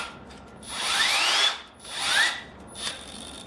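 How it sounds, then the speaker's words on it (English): A Milwaukee 12V hammer drill with an electronic clutch whirs up in short bursts that rise in pitch and then abruptly cut out, repeated three times close by, the last one briefer, with no talking. "You hear the clutch engaging."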